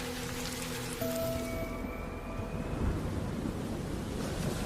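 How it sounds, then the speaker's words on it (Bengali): Heavy rain pours down steadily in a broad, continuous wash, with a low rumbling undertone that may be distant thunder; no voices, though faint musical tones drift over it at the start. "সেই মুহূর্তে আবার ঝমঝমিয়ে বৃষ্টির তোড় বাড়তে থাকলো।"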